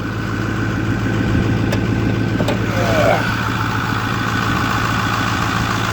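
A 2008 Ford F350 Lariat FX4 Powerstroke diesel with a 4-inch FloPro delete pipe idles with a steady, moderately loud low rumble and constant drone, with a couple of faint ticks on top.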